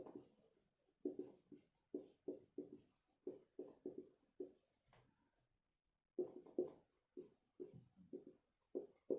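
During a physics lesson, chalk or a marker writes on a classroom board in short, quiet bursts of scratching strokes, with brief pauses between words.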